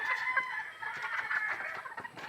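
White Kelso chickens cluck and a rooster crows nearby, several birds calling over one another in a short, lively burst.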